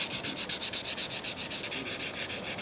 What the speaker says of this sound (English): So we'll just give this a bit of a light rub.